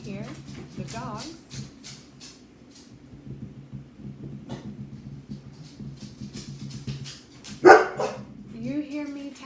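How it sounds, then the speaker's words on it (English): Dogs bark in short bursts nearby indoors, mixed with soft, close whispered talk. "you may see and hear the dogs."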